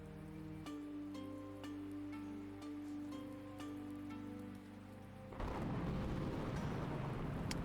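Rain in the video game Universe For Sale, a steady hiss of falling rain under a sustained musical drone, swelling into a louder, denser downpour near the end.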